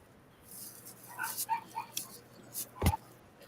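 Excited pet dogs give a few faint, scattered yips, whimpers and short barks at some distance, broken by quiet gaps.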